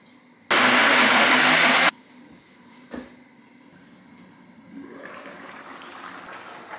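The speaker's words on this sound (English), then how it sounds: "I have a blender, so I'm going to use that blender to blend my thickener" A kitchen blender whirs loudly for about a second and a half, blending yam and potatoes into a soup thickener, then cuts off, leaving faint clinks and rustling.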